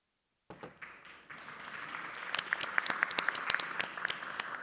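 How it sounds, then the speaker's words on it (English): Audience applause at a high-level conference hall in Nicosia, Cyprus, starting abruptly after silence and building into sustained clapping from many people, heard faintly as if through a distant microphone. "people in the audience are clapping at your presentation."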